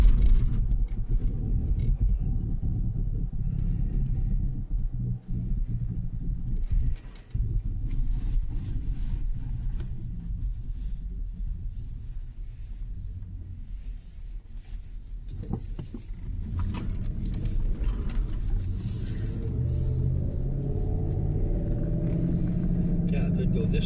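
A car engine runs steadily throughout, a low continuous rumble from inside the vehicle with a brief dip partway, while a person talks over it.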